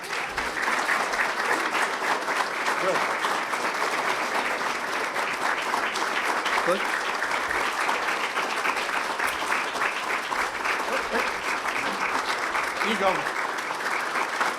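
An audience at a Chamber of Commerce awards gala gives a long, steady round of applause, dense clapping that continues evenly throughout, with a few brief voices speaking under it.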